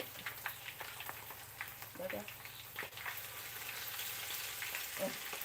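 Small minnow fish (pla siu) fry in a hot pan, giving a soft, continuous crackle and sizzle with scattered pops, fairly quiet and close.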